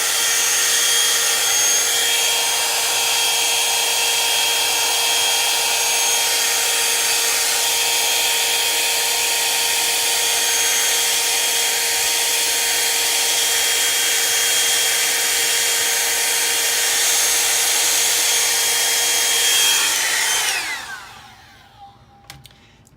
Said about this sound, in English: let's hit this with a blow dryer.